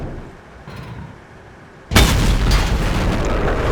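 A heavy cannon hit slams into a T110E5 tank in World of Tanks as a T32 fires into its side, a sudden loud boom followed by sustained rumbling noise after a quieter battlefield lull.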